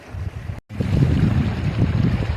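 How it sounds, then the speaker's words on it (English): Wind gusting across an open Scottish campsite, a steady low rumble buffeting the microphone with a brief dropout early on, then continuous blustery roar. "There's that wind picking up already"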